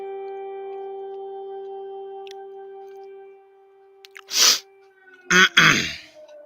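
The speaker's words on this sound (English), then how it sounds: "I seem to have all these sneezing issues today." A person sneezes twice, loud and close, after a stretch of steady electronic hum and tones, with the second sneeze coming as a quick double burst.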